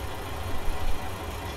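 A tractor or farm vehicle engine idles in Farming Simulator 19, a steady low rumble that holds throughout at moderate level with no talk.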